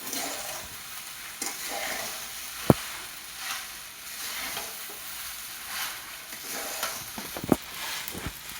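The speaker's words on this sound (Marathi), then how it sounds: "आता खिचडी चांगली अशी परतून घ्यायची मस्त." Sabudana khichdi stir-fried in a pan for a fasting recipe, a steady soft sizzle with occasional sharp spoon clicks and scrapes against the pan, close and unhurried, no voices.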